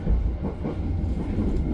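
Steady low rumble and rolling clatter heard from inside a KA Motis passenger train running through Serpong station in Indonesia, continuous and close with no pauses.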